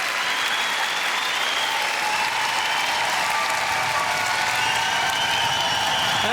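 A studio audience applauds a Swiss rapper on an unplugged show. Dense, even clapping with some crowd noise runs loud and unbroken from start to end.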